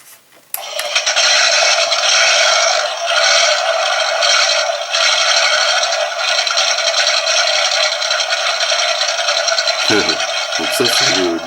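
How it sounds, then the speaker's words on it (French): The built-in engine sound effect of an Eaglemoss 1/8 scale Ecto-1 model plays as a thin, tinny, rattling rumble from a small speaker, steady for about nine seconds before brief handling noise and a voice at the end. "Donc ça, c'est le bruit du moteur."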